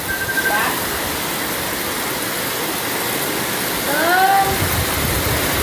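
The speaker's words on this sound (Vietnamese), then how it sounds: "Trời ơi, nhìn thấy mưa mới nặng rụt luôn mọi người ơi." Heavy rain pours down in central Vietnam after a major typhoon, a loud, dense, unbroken roar of water with brief faint vocal sounds near the start and end.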